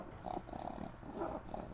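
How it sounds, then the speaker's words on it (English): A sleeping dog snores close by in a series of low, rough, rattling breaths that repeat steadily over a couple of seconds, with faint room noise underneath. "We got a snoring dog."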